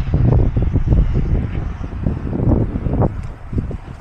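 Wind gusting on a snowy highway shoulder beside a broken-down truck, a loud, rough rumbling roar that surges and eases, close to the microphone, with no voices.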